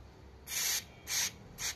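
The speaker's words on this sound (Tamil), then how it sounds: "இப்படி தான் உங்களுக்கு ஆயில் ஸ்ப்ரே பண்ணோம்" Oil jets spray out in three short hissing bursts from a part of a Fiat 1.3 Multijet engine during assembly, close and bright, separated by quiet pauses.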